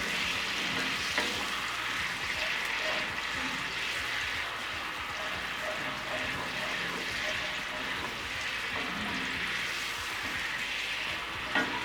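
Wine and beef stock sauce bubbling and sizzling in a hot pan for a beef tenderloin dish, a dense, steady frying hiss with soft stirring movements running the whole time.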